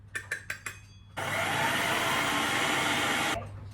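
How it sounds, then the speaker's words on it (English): A food processor whirs loudly with all-purpose flour inside, a steady close motor drone lasting about two seconds after a few short clicks and bumps. "I have some all-purpose flour in my food processor"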